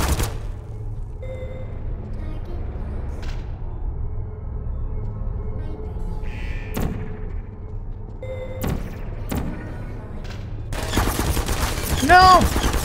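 Gunfire in the Portal video game, a few sharp isolated shots and thuds spaced apart over a quiet mechanical hum, building to a louder burst of rapid fire near the end, with talking heard.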